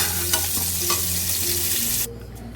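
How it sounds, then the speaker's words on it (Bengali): Pointed gourd (potol) pieces fry in hot oil with a loud, close, continuous sizzle and occasional scraping stirs, cutting off abruptly near the end to a quieter hum. "ভালো করে পটলকে ভেজে নেব দেখো আমি ভালো করে একদম পটলকে ভেজে নিলাম"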